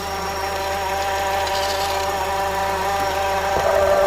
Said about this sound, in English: I can definitely hear the clutch.